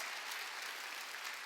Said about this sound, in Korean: 박수 좀 쳐